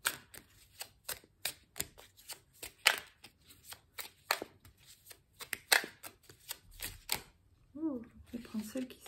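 Tarot cards drawn and handled for a nine-card spread, giving a run of crisp, close card flicks and slaps in an uneven rhythm, with a soft voice speaking near the end.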